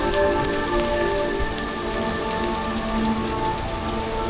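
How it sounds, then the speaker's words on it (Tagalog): Steady rain pours down outdoors inside a dome structure in Aurora, Philippines, a loud, continuous hiss of drops on surfaces with no pauses and no voices. "Naulan."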